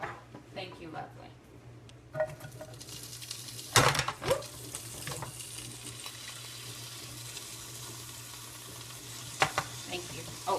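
Green beans with Italian seasoning sauté in a pan in a home kitchen, a low steady sizzle punctuated by a few sharp clatters of stirring against the pan, with a brief spoken moment near the start.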